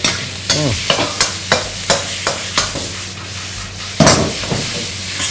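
Pork and holy basil stir-fried in a hot pan, the spatula scraping in a steady rhythm over a continuous close sizzle, with one sharper clatter near the end and no voices.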